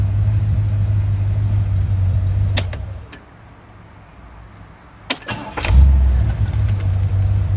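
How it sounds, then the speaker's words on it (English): A 1967 Cadillac Eldorado engine runs, shuts off with a few clicks, then cranks and fires back up into a loud, smooth, steady idle close by. "Okay, that's how a car should start."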